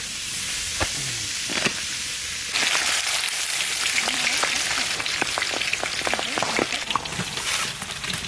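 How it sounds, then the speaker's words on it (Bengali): Eggs fry in hot oil in a home kitchen, a steady close sizzle that swells louder partway through, with scattered crackles and pops and no talking. "ডিম ভাজা হয়ে গেছে, ওই তেলেই ফোড়ন দেবো"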